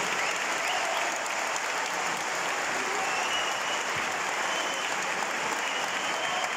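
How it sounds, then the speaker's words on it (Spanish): A large crowd at a Frente Amplio political celebration in Uruguay applauds party president Fernando Pereira, a steady, dense roar of clapping sustained at even loudness, with no speech over it. "Fuerte, fuerte, fuerte el aplauso para el presidente del Frente Amplio, Fernando Pereira."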